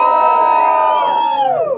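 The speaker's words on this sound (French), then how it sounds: "je voudrais que tout le monde crie en même temps" A comedy show audience in the Antilles shouts and cheers all at once, a loud sustained roar of many voices close up that swells and then trails off after nearly two seconds.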